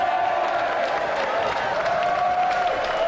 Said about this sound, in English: And a round of applause for the European Sega champion